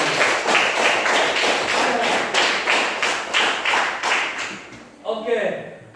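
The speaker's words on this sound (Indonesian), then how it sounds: "Ya, tepuk tangan lagi." A classroom of students claps together in a brief burst of rapid, dense applause lasting about five seconds, close and fairly loud, before it stops and a single voice begins speaking.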